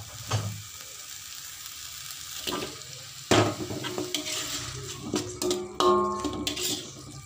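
Beef liver going into chili paste in a frying pan, with a soft sizzle, clinks of the pan and scraping of a stirring utensil, then a louder sizzle and bubbling as the meat is mixed through.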